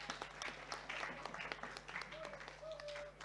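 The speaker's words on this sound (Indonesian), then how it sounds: "Tepuk tangan buat kita semua." Scattered applause from a small audience of young first-time voters at an election supervision outreach session, faint and uneven claps mixed with murmuring voices over a steady electrical hum.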